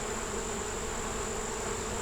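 Honey bees at a backyard hive during an inspection, a steady close buzzing drone with a sustained high whine, continuous and without speech.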